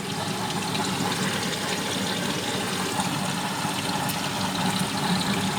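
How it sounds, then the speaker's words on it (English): A washing machine on its rinse cycle fills with water, giving a steady, continuous rushing and hiss at close range with no talking. "I've just put it on rinse there now, so just so it fills up with water."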